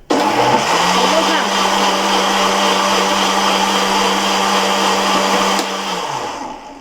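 A kitchen blender running on pumpkin for chapati dough, a loud steady whirring drone that starts abruptly, holds for about five seconds, then winds down as the motor stops.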